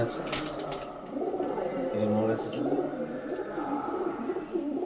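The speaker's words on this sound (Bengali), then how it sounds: "এটা মাদা পায়রা এটা মাদা পায়রা" Soft, repeated pigeon cooing rises and falls close by at a pigeon sale, mixed with a person talking and a few faint chirps and rustles.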